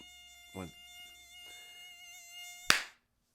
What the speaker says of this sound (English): mosquitoes are probably my least favorite creature on the planet